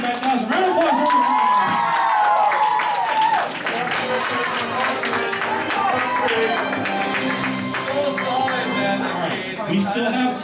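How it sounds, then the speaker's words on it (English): Audience applause and cheers at an anime convention game show, loud steady clapping with whoops and speech layered over it, easing slightly partway through. "Round of applause for"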